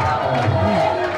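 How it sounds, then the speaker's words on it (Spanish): Crowd ovation at a Turismo Carretera championship trophy presentation in Buenos Aires, a steady wash of cheering and applause held at an even, fairly loud level from start to finish. "vas a recibir en este momento la copa en manos de Godoy, presidente de Río Uruguay Seguros, toda la ovación"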